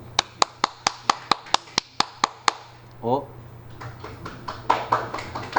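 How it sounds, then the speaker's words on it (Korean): A class clapping hands: about a dozen evenly spaced, crisp claps at first, then a voice speaks, followed by scattered, looser clapping from a few people near the end. "빙고, 박수"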